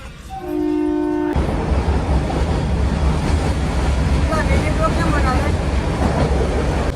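A passenger train rolls along the rails toward Talala station with a loud, steady rumble and rattle that fills the whole stretch, after a brief tonal hum at the start.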